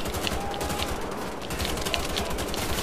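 Sustained rapid gunfire fills the scene in Wolfenstein: The Old Blood, a dense crackling fusillade of machine-gun bursts continuing without pause across the whole stretch, loud and close with no talk.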